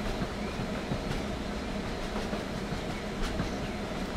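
A long locomotive-hauled holiday special train in Thailand, eight cars behind a diesel locomotive, rumbles steadily along the railway with a constant heavy wash of rail noise and faint rhythmic clatter, no voices.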